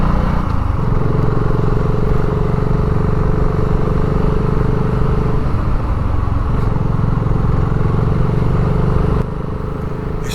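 A BSA Goldstar 650 motorcycle climbs the steep Mangate Hill in the Lincolnshire Wolds, its engine droning loud and steady throughout with a gear change around the middle and a slight drop near the end.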